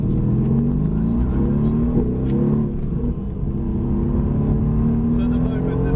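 A Mercedes AMG GTS sports car with rear wheel steering drives hard around a track, its engine droning loudly from the cabin with rising and falling pitch as it accelerates, while people talk over it.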